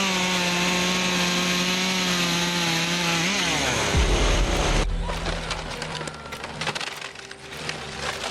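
A handheld chainsaw cuts through timber, a loud steady engine whine that drops in pitch as the chain bites into the wood, then a rough ragged roar of sawing with splintering crackle toward the end.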